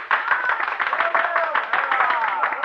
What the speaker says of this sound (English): Then applause drew me from my unhappy reverie.